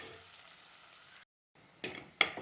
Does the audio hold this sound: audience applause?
no